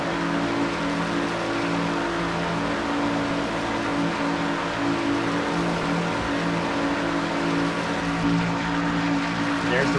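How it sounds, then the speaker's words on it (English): Onboard race car engine in a NASCAR-style Daytona 500 video game race: a loud, steady, droning roar held at high revs throughout, with no break or shift. "On board, Jessica Shelton's car in number 11, looking for her second Daytona 500 win for Quentin Moore."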